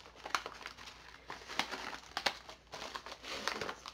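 A mail package from a card shop gets opened, plastic wrapping crinkling and crackling in repeated bursts with sharp snaps, close up.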